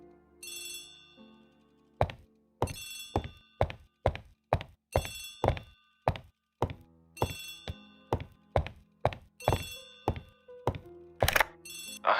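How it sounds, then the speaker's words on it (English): An old-fashioned telephone bell rings in short repeated bursts, mixed with sharp thunks and clatters close by, in a quiet room. "Poirot, the telephone."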